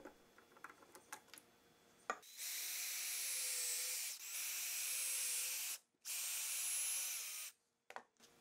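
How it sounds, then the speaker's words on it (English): A power drill whines steadily through three long bursts into clamped golf balls, with brief pauses between them. Before it starts there are small scattered clicks and taps, then a few knocks after. "Be sure to clamp the golf balls in a safe manner while drilling them."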